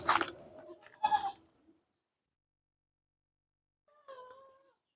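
Haryana crossbreed goat kids bleat in two short bursts near the start, the first one loud and close, followed by about two seconds of silence and then a fainter, higher cry near the end.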